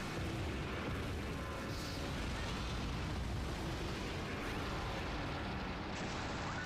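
Godzilla unleashing his atomic breath in the PlayStation 4 game, a sustained roaring blast of dense, rumbling noise that holds steady and loud from start to finish with no voices over it.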